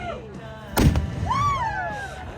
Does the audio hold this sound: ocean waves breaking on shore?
no